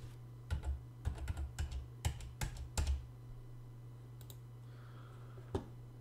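Someone types on a computer keyboard in short bursts of quick, soft clicks with brief pauses between them, over a low steady hum. No voices are heard.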